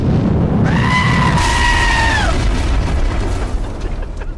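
A human voice imitates a goat being destroyed by a meteorite: a loud, sustained, wavering bleat-like cry that cuts off into a rumbling, booming blast which slowly fades.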